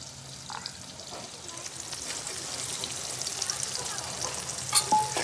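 Tomatoes, green chillies and garlic frying in a pan for karela shaak, a soft continuous sizzle with occasional stirring scrapes, building slightly louder near the end while people talk faintly nearby.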